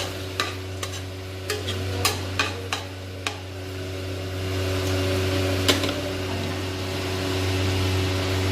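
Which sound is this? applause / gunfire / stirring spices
stirring spices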